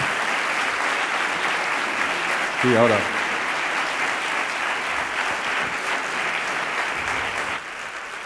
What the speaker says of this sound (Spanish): un fuerte aplauso para este gran emprendedor